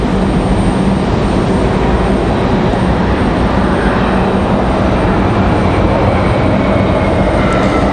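A United airliner landing at Raleigh-Durham International Airport, a loud, continuous broadband jet roar holding steady throughout without talk.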